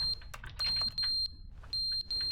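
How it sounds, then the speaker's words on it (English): An alarm in The Stanley Parable: Ultra Deluxe beeps in repeated high-pitched bursts, with short gaps between groups, loud and insistent. "shut up with the beeping"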